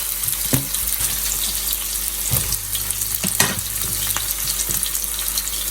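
Fake crab sticks and eggs stir-frying in a pan, with a steady loud sizzle and occasional spatula scrapes and knocks close by, with no talk.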